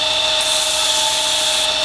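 Continuous close abrasive hiss and whine of a belt sander with a worn 80-grit belt flattening knife handle scales, steady and loud throughout.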